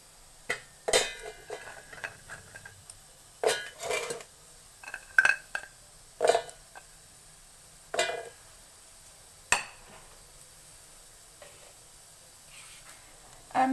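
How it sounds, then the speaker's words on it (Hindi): Oreo biscuits are dropped into a grinder jar in a series of sharp, separate clinks and knocks, spaced irregularly with quiet gaps between them. "केक बनाने के लिए मैं ओरियो बिस्किट ली हूँ और मैं इसे जार में डालने जा रही हूँ।"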